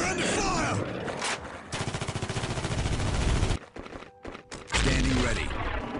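Rapid machine-gun bursts and volleys of gunfire crackle through a Warhammer 40,000: Dawn of War battle, loud and sustained with a brief lull before another heavy burst.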